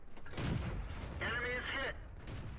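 Tank cannon fire in a combat video game, heavy booming shots, with a player's voice talking over the battle and a mechanical whine in between.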